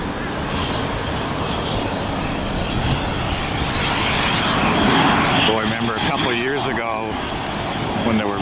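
An American Eagle Embraer regional jet passes close by at Tampa airport with a loud, steady broadband engine roar that swells in the middle, and a voice briefly speaks over it.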